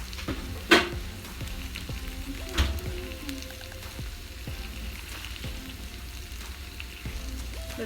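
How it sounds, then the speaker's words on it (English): Onions fry in olive oil in a pan for corned beef hash, giving a soft, steady sizzle with a sharp clack near the start and a duller knock a couple of seconds later. "Let them fry up before I add the corned beef hash."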